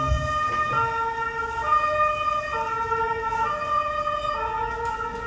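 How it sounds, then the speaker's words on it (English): An ambulance siren wails steadily, cycling between two tones over traffic rumble, fairly loud and continuous. "That's an ambulance."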